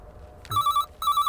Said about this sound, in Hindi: सर, फोन बज रहा है।